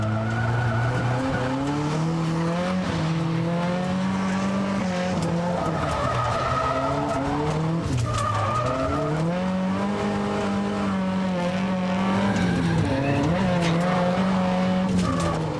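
Nissan S14 drifting from inside the car, engine revving up and down in waves as tires squeal and skid continuously, loud and close throughout the run.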